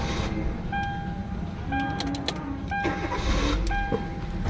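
A Hyundai i20 engine starts up after a steering motor repair, cranking with a few short tonal whines and clicks before settling into a steady, close idle; no one speaks.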